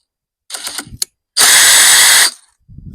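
A power tool whirs in short bursts and then in one longer sustained run while driving the blade screw on a Sunseeker X7 robot lawnmower, close and fairly loud, separated by quiet gaps.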